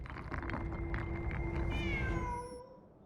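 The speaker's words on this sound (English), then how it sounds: "A cat!" A cat meows in the Genshin Impact video game, a single drawn-out cry that bends downward and fades, set over a low sustained drone in an empty, eerie darkened theater.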